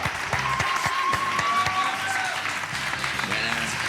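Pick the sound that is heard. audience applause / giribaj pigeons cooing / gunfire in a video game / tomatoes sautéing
audience applause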